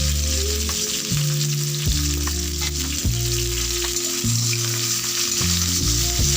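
Drumstick (sojne data) pieces sizzle steadily in a pan while cooking Bengali shukto, a dense continuous fry with occasional soft stirring knocks, close and fairly loud with no voices.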